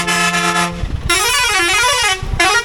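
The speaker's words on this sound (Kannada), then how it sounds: "ಅಷ್ಟೇ ಹಾರ್ನ್ ಮಾತ್ರ ಹಾಕ್ಬೇಕು ಇಲ್ಲಿ ನಿಂತ್ಕೊಂಡು" Loud, close vehicle horn honking on a forest road in the Sathyamangalam reserve forest, two long blasts separated by a short gap, with a wavering pitch in the second blast and an idling engine beneath.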